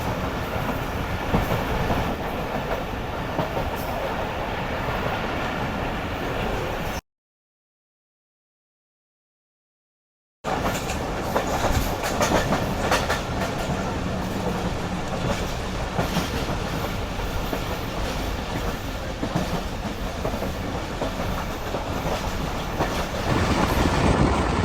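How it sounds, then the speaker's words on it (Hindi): Karakoram Express passenger train running as it nears Dera Nawab Sahib railway station, a loud continuous rumble with rhythmic clickety-clack of wheels from inside the carriage, broken by a brief gap of silence before resuming. "12:02 पर हमारी ट्रेन अप्रोच बना रही है डेरा नवाब साहब रेलवे स्टेशन पर।"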